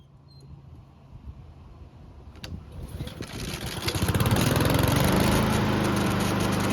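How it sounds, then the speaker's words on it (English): A small Honda lawn mower engine sputters to life after a few quiet seconds, then settles into a loud, steady drone up close. "the engine started and ran"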